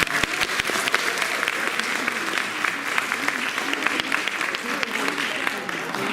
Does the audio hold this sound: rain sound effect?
no